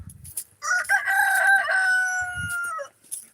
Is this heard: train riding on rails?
no